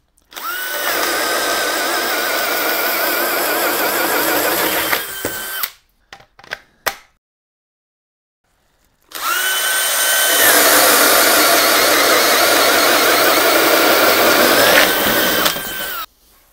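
Cordless power drill running on a PDNation universal battery at low speed, a loud steady whine for about five seconds, brief clicks and silence, then another sustained run of similar length.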